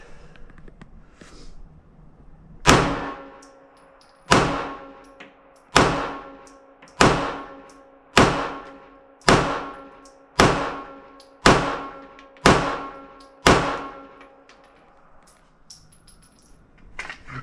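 Ten sharp, loud pistol shots from a Sig P365 .380 at an outdoor range, fired one at a time at an even pace roughly every one and a half seconds, each with a ringing decay and no talking.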